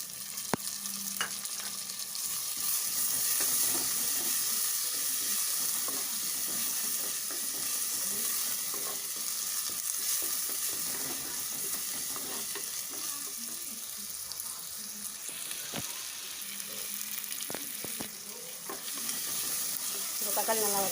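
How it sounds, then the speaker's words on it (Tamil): Chopped tomatoes sauté in a pan for Tamil-style dry roast masala chicken, giving a continuous soft sizzle with occasional stirring scrapes and clinks, fairly quiet and without speech. "இப்போ தக்காளி நல்லா வதங்கிச்சு."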